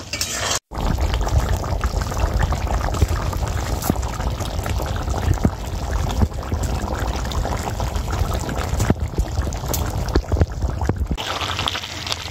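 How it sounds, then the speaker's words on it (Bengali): Chicken pieces nearly cooked through after frying with spices, now boiling in added water in a pot for a spicy Bengali chicken dish; a steady, dense bubbling simmer continues close by for the whole stretch, with a brief break near the start and no talk. "মাংসটা কষাতে কষাতে সেদ্ধ প্রায় হয়ে এসেছিল, তবুই একটু জল দিয়েছি, দিয়ে ফোটাচ্ছি।"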